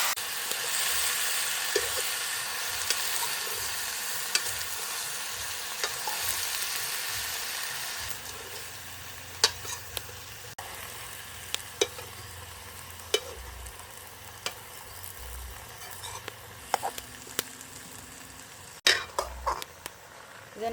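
Garden tomatoes sauté for tomato thokku with a broad, hissing sizzle that fades after the first few seconds. Sharp spoon-on-pan scrapes and clicks follow at irregular intervals, nearby and moderately quiet.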